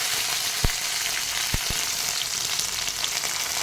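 Curry leaves, garlic and fenugreek seeds frying in hot oil for egg kuzhambu, a constant bright sizzle with a few sharp pops and spits standing out, close and loud, no talking.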